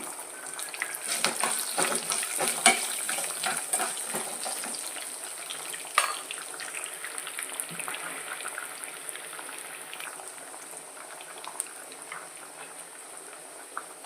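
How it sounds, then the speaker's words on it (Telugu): Dried red chillies fry in oil in a pan for a raw banana stir-fry, crackling and sputtering steadily with scattered sharper pops, close and fairly quiet, with no voices. "కొంచెం వేగనవండి కొంచెం వేగాయి కదండి ఎండుమిరపకాయలు వేసుకుందాము"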